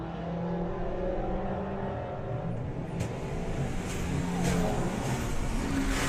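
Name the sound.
Audi drag racing run at Santa Pod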